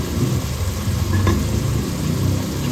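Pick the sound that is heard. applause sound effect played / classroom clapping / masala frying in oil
masala frying in oil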